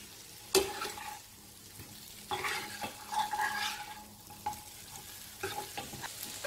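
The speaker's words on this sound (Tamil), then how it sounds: "காய் உடையாமல் இருக்கணும்னா மெலிசான கரண்டி கொடுத்து கிளறி விடணும்." A thin ladle stirs boiled raw banana pieces in a pan for Chettinad-style fry. Quiet scraping strokes and light clinks come and go over a faint, steady sizzle.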